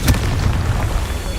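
A Confringo spell bursts in a Harry Potter video game, a loud low boom with a sharp crack at the start that fades into a dense rumbling tail.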